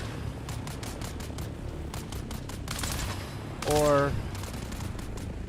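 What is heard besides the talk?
gunfire in a gang gunfight in the video game Dune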